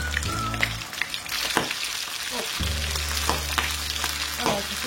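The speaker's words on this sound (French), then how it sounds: "ça fait déjà une bonne minute que mes travers sont en train de colorer" Pork spare ribs browning in a hot pan give off a steady, close crackling sizzle, with the occasional soft scrape and clink of stirring and a faint background hum that drops away briefly.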